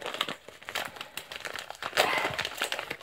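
A paper postal envelope is torn and opened by hand, producing close, loud crinkling and ripping with rustling paper handling throughout a few seconds.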